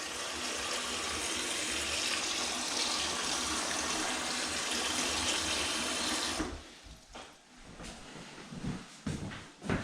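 Water runs from a tap into a bowl in a kitchen as a steady, rushing stream for about six seconds, then stops, leaving faint splashes and handling noises.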